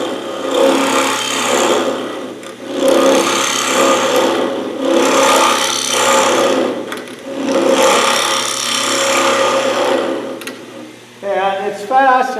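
A woodturning scraper makes a scraping cut on spinning wood on a lathe, a steady grating rasp that swells and eases in long strokes over a constant low motor hum, with a voice briefly breaking in near the end.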